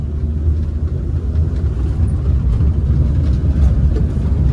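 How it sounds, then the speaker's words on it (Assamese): A used Maruti Alto's engine while driving, a steady, loud, low rumble with constant road noise and no voices, continuous throughout. "অলপ চলায়ো দেখাই দি আছোঁ ইঞ্জিনৰ চাউণ্ডটো একদম ধুনীয়া হৈ আছে"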